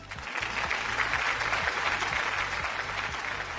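A studio audience applauds a prize win on a game show, with steady, even clapping that holds strongly for several seconds at moderate volume.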